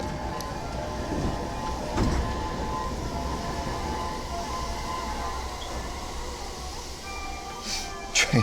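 A train rumbles past steadily at moderate distance in an outdoor setting in Saitama, Japan, with a sustained rolling roar and a few brighter metallic squeals near the start and end.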